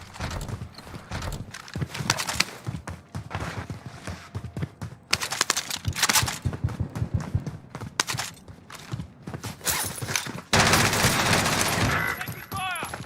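Dense gunfire rattles through a Call of Duty Warzone match, with bursts of loud, rapid shots and thuds overlapping in quick succession and game voice callouts in between.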